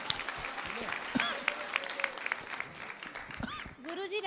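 An audience at a religious discourse claps steadily at moderate volume, and voices and cheers rise over the clapping toward the end.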